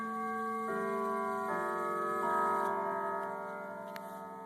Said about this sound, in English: Quarter chime.